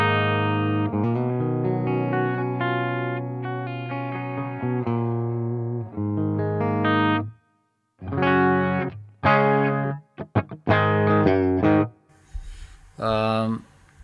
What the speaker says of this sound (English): Let's add the reverb here.